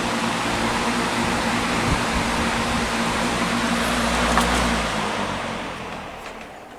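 An electric fan runs steadily at its low speed setting, a fairly loud, even whir with a low motor hum, close to the microphone and fading slightly toward the end, with no talking.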